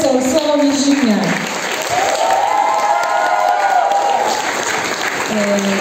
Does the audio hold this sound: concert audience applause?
yes